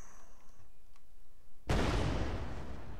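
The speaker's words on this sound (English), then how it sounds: "We did the explosion, we had the sound" A single sudden explosion in a video game bursts in after a quiet stretch of faint ticks and hum, then a loud roaring rumble that keeps going to the end.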